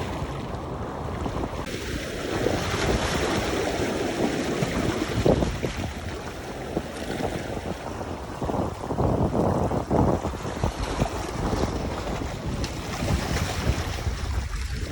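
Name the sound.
ocean waves at Oahu, Hawaii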